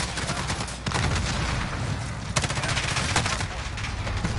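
Gunfire in the shooter game Modern Warfare, dense overlapping bursts of automatic weapons with sharper individual shots cracking through, continuous and loud for the whole stretch with no talk.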